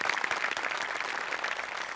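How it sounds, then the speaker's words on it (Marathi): A studio audience at a comedy show applauds steadily, a dense wash of many hands clapping at close range without letting up. "एकदा जोरदार टाळ्या त्यांच्यासाठी सुद्धा"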